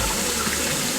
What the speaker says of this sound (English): added one more cup of water.